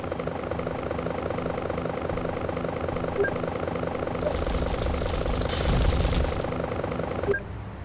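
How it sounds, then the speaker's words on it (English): Attack helicopter in GTA Chinatown Wars, a steady loud rotor drone running throughout, swelling briefly near the end before cutting down, with no talk over it. "Attacking helicopter, no!"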